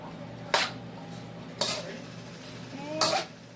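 Clinks and scrapes of a spoon stirring beef and noodles in a pot, three separate bursts over a steady low kitchen hum.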